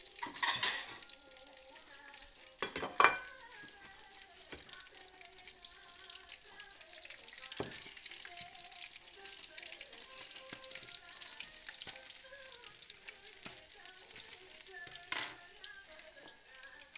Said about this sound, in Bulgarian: как да пържите черноморска риба